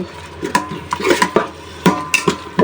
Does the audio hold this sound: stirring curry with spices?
yes